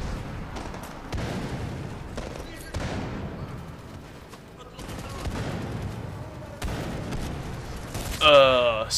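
Gunfire in the video game Medal of Honor Warfighter: rapid bursts of shots and heavy firefights come in waves, with a sharp electronic chirp near the end.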